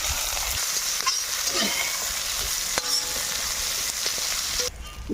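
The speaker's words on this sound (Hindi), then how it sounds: "इधर देखिए तेल भी गर्म हो गया है। तो हम डालेंगे अभी, क्या बोलते हैं इसको, प्याज।" Chopped onions fry in hot oil in an outdoor village picnic cooking pot, giving a steady, loud, continuous sizzle with occasional stirring scrapes and no talk.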